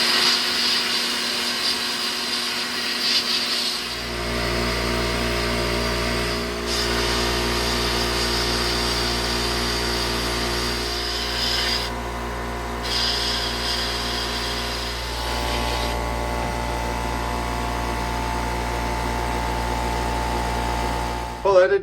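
A blast cabinet cleans car parts with walnut shell media, starting with a loud, constant rushing hiss of air and abrasive over a steady motor hum that continues unbroken for the rest of the clip.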